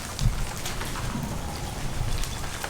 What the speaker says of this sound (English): Actually, the pour just came down.